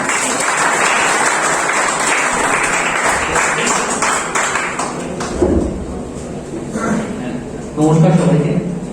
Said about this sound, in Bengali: স্যারের জন্য একটা জোরে হাততালি হয়ে যান।